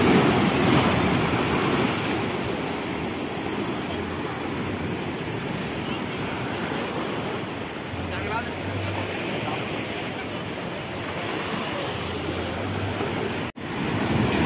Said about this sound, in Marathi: खूप भयंकर मोठमोठ्याला लाटा आहेत बघा